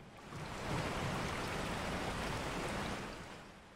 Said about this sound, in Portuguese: Mas é barulho da chuva só.